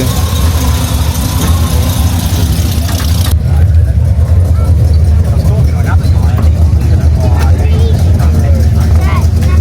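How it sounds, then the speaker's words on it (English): Chevrolet Silverado rolling past at a classic car meet at a country club, a loud low engine rumble that swells and continues under crowd noise and speech. "There goes the Silverado."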